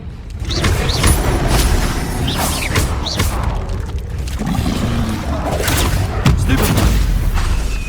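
Confringo fire spell blasts in Hogwarts Legacy, a dense run of loud booming explosions and crackling impacts with game effects layered throughout.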